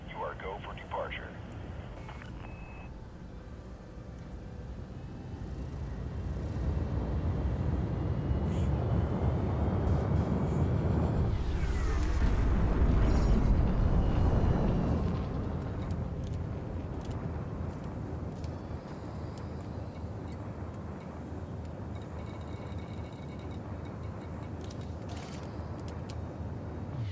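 A video game spaceship departs after its landing gear retracts, a rising engine roar that swells to a loud rumbling peak midway, then fades back under a low hum.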